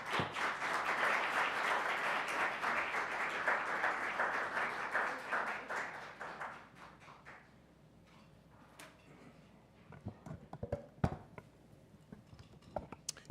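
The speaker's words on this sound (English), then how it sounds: "Can we just have another round of applause?" An audience applauds after a performance at a Black History event, a dense, loud burst of clapping that holds for about six seconds, then thins to scattered claps and a few knocks.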